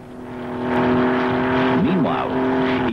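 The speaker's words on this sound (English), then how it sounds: "Each time the giant Packard Merlin engine exploded into life, it seemed to bring Tony's dream a little closer to reality" A Packard Merlin aircraft engine from a recovered Mustang fighter fires up into a loud, steady, droning roar close by, with a narrator speaking over it.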